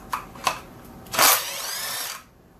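A Milwaukee cordless power drill on a sprint car wheel repair: two short blips of the trigger, then a louder whirring run of about a second that winds down, heard close with no talking.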